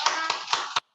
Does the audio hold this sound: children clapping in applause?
yes